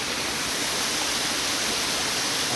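Dense, unbroken roar of a waterfall, close and loud, a constant hiss of crashing water with no voices or other sounds.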